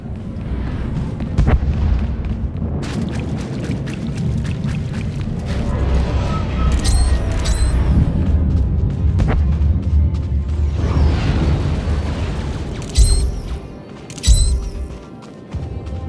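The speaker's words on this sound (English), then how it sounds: "Enemy artillery incoming!" Enemy artillery fire and explosions thunder across a beach battle on Corellia in Star Wars: The Old Republic, with repeated booms and sharp blasts over a rumbling backdrop and brief whistling streaks of incoming shells.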